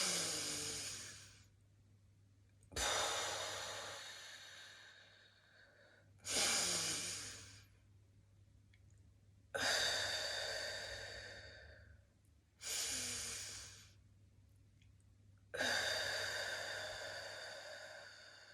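Six deep, slow breaths, each inhale a long airy rush lasting a second or two, paced evenly about three seconds apart during a guided breathing exercise, close and clear against a faint low hum.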